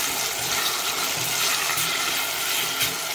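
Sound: pouring a little water into a pan of onions and mushrooms

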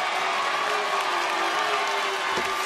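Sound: NOAH wrestling fans applauding

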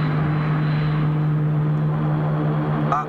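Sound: orbit jet landing, from a film

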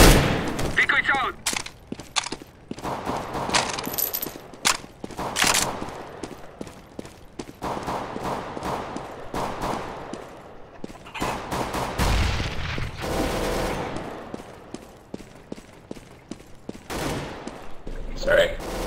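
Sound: decoy grenade firing fake gunshots in video game Counter-Strike GO

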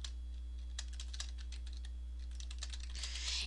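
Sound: typing a page title on a computer keyboard

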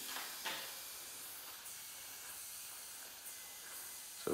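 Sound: air leaking from tubeless mountain bike tyre

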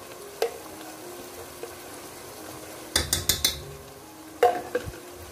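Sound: frying masala with ginger garlic paste, stirring

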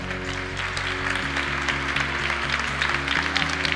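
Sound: applause

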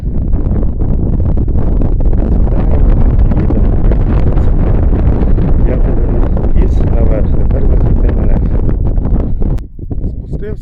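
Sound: strong wind blowing

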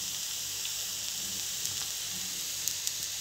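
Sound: jowar dosa cooking on a hot pan

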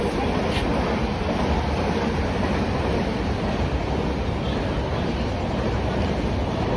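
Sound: train passing at station platform

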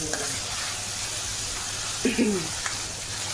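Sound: vegetables being sautéed in a pan

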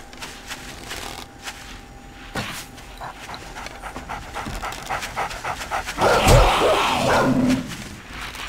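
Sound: dog panting and barking, from the video game 7 Days to Die

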